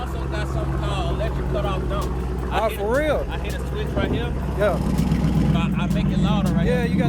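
A Cadillac CTS-V with its exhaust cutouts open, heard close at a car meet. A heavy, steady engine rumble grows rougher and louder toward the end while people talk over it.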